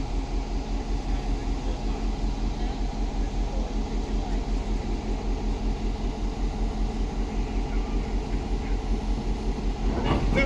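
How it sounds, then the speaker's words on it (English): Tennessee, Alabama and Georgia locomotive number 80 rumbles steadily on a heritage railroad ride, a close, constant low drone with rhythmic clatter throughout and a brief rise near the end. "The locomotive you see right here is Tennessee, Alabama, and Georgia, or TAG for short, number 80."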